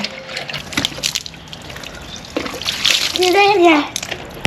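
Warm bathwater poured over a child's back, bursts of splashing and sloshing followed by a trickling pour, with voices talking over it.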